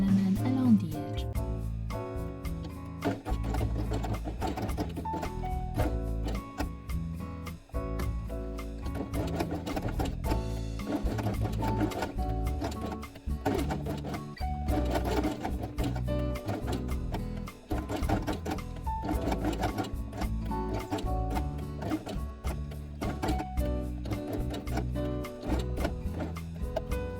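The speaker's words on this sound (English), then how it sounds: "Sew only the green element along the edge." A sewing machine stitches felt for a quiet book page, a close, steady rapid ticking and whirring that runs continuously with brief slowdowns.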